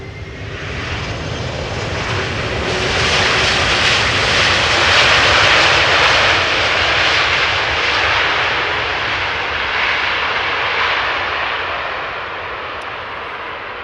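Delta Airlines Airbus A330 landing at Amsterdam Schiphol Airport: a broad jet engine roar swells steadily, peaks in the middle as the airliner passes close, then slowly fades, loud and continuous without speech.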